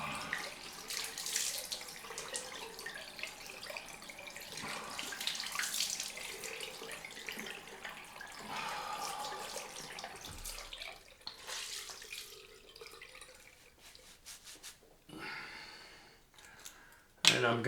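Tap water running into a sink for a cold rinse after a head and face shave, a close, steady splashing that shifts as hands move through the stream, with a few clicks and knocks near the end.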